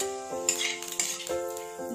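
Dried red chili pieces and whole cumin seeds are stirred in hot oil in a pan: quiet metal scrapes and clinks over a soft sizzle, with a faint steady tone in the background.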